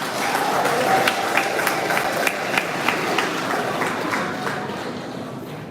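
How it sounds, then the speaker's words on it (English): Audience applause at the commissioning ceremony of the Parliament of Ghana museum: a dense, steady wash of clapping from a crowd that holds for several seconds and slowly tapers. "Let's once again applaud the sweet voices of democracy."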